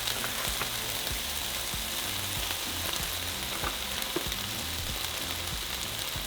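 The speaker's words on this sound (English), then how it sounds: "we're going to begin to fry our meat along with our garlic and onion" Pork and chorizo with garlic and onion frying in oil, a loud, steady, close crackling sizzle that runs continuously without pause.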